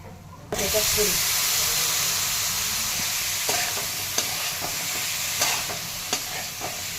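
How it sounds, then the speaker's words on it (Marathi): Spiced ridge gourd curry with red chilli and turmeric being stirred in a pan: a constant close sizzle and hiss, joined after a moment by sharp spoon scrapes and clinks against the pan. "छान मिक्स करून द्यायचं"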